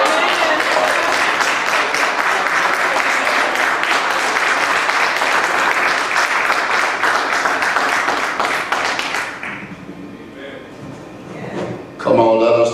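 A church congregation applauds on Good Friday, dense steady clapping for about nine seconds before fading to a quieter murmur, then a brief loud burst near the end.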